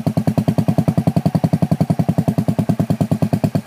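A small motorcycle being ridden on grass, its engine chugging in a fast, regular pulsing beat at low to mid revs, loud and close, steady for the whole stretch with no voices over it.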